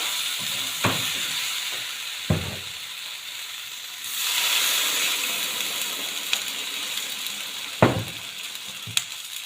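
Water goes into a hot pan of fried potato, onion and tomato, setting off a broad hiss of steam that rises and then fades, with a few sharp clinks of utensils scattered around it.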